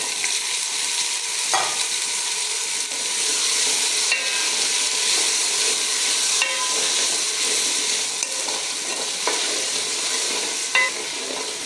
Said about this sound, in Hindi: थोड़ी देर के लिए आलू की भुनाई कर लेंगे।